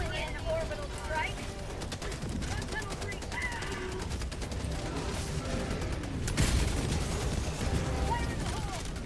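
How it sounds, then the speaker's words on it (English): Orbital strike blasts and heavy gunfire in the video game Helldivers, a dense continuous barrage of rapid shots and booms with a louder explosive burst partway through, under game voices. "Calling in orbital strike."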